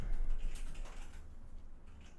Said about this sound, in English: the typing's so loud